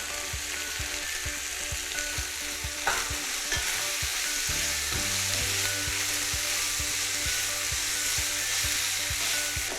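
Tomato and onion filling for a stuffed omelette is stir-fried in a pan: steady close sizzling with regular, rhythmic spatula scrapes and taps throughout, no voices.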